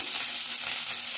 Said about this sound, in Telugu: ఉల్లిగడ్డలు వేసుకొని ఫ్రై చేసుకోవాలి.